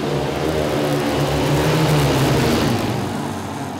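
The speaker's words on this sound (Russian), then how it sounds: "Рев моторов, крутые виражи" Ice speedway motorcycle engines roar at a world championship round, a loud, sustained drone whose pitch rises and falls as the bikes swing through the turns, easing off slightly at the end.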